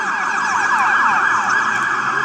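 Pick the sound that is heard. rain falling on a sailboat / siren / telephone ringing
siren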